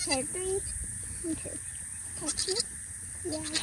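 Several bleats from sheep on a farm, close and repeated through the clip, with people talking in the background.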